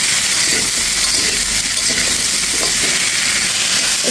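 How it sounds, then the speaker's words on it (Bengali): Bitter gourd and potato fry with green chilli in a hot pan, giving a loud, continuous, close sizzle with stirring noise throughout and no talk. "এখানে আমি ভাজার সাথে একটু কাঁচামরিচ দিয়ে দিয়েছি"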